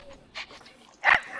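Puppy whimpering in the snowy zoo-building game Planet Zoo, two short whiny yelps, the second louder and sharper, standing alone against quiet background.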